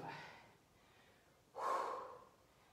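Heavy, audible breaths during a TRX Tabata leg workout: a softer exhale followed by a louder, forceful snort-like breath, close and alone.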